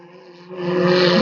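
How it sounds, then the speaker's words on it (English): A hydroplane race boat engine rises from a low hum into a loud, swelling roar as the throttle is blipped going into a turn, heard from a distance. "hear him blip the throttle there just as he got into the turn"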